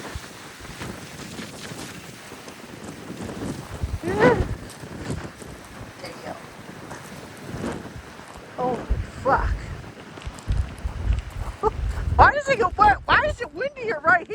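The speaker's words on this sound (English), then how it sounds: "Oh my God, it got windier right here." Strong wind gusts of up to 60 mph over the Northeast Atlantic Ocean buffet the microphone in rough, surging bursts while someone talks excitedly.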